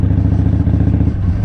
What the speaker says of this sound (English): engine was slowing the motorcycle down